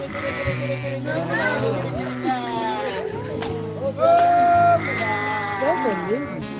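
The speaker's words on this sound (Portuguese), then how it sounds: "E agora o pastor mesmo chamando as ovelhas." Sheep bleat repeatedly in a flock while a shepherd calls them outdoors, wavering cries overlapping one another at close to moderate distance, with people talking and murmuring in the background.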